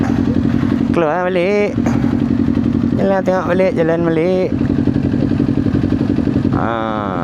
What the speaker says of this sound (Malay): Tak puas nak jalan-jalan bawa motor.